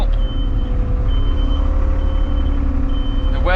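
A Kramer mini telehandler drives along in bad weather, its steady reversing beeper sounding in repeated tones over a continuous close engine drone.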